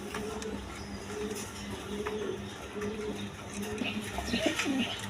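Rajgolla pigeons coo repeatedly in a farm loft, soft rolling calls over a busy, slightly noisy background, growing a bit louder toward the end.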